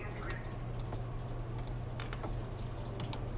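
Scattered, faint keystrokes on a computer keyboard in a TV newsroom during live coverage, a few irregular clicks over a constant low background hum.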